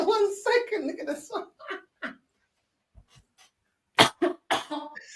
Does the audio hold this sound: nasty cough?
yes